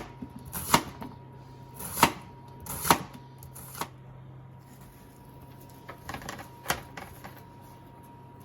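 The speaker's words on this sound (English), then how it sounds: "So we spread the onions nice and thinly on the dehydrator." Red onion slices dropped and spread by hand onto a dehydrator tray make a handful of sharp, crisp taps and light rustles, close and fairly quiet over a steady low hum.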